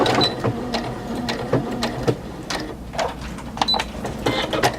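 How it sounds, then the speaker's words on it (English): A Brother A150 sewing machine runs a short tie-off stitch, with rapid mechanical whirring and clicking needle strokes in close, even bursts and small ratcheting knocks throughout, with no voices. "I'm just going to do my tie off stitch, come through, and let's do it at the end as well"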